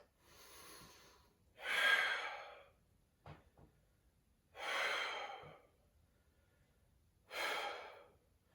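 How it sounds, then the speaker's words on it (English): Deep yoga breathing held in warrior pose: three long, loud inhale-exhale cycles, close and airy, each separated by quiet pauses, with no talking. "Let's do 3 breaths."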